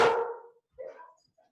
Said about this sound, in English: Oh, no. We got barking.